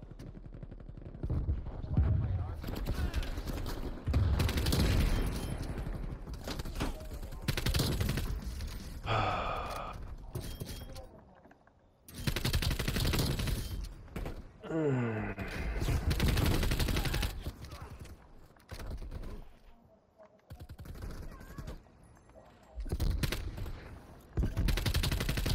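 Gunfire in the Call of Duty Black Ops game on the Nuketown 84 Holiday map, with dense bursts of shots and explosions coming in loud waves and brief quieter gaps between them.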